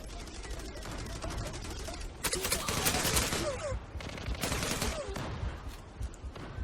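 Gunfire in the online shooter Zula, bursts of automatic shots crackling at moderate distance, densest in the middle stretch, with faint talk underneath.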